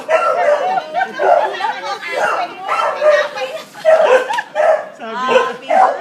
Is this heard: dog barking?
yes